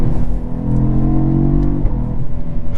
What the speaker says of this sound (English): that burble on the upshift